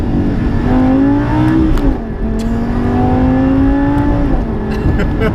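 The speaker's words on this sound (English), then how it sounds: "if we just slip it into Corsa mode, let's put that smooth to the test." A Lamborghini Huracán Evo Trofeo in Corsa mode pulls hard through its gears, the engine note climbing loudly, dipping at a quick shift and climbing again, up close.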